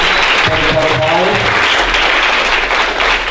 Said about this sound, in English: Big round of applause for Pam